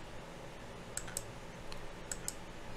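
A few crisp computer mouse clicks while operating welding simulation software, faint and close, spaced irregularly over a quiet steady background hum.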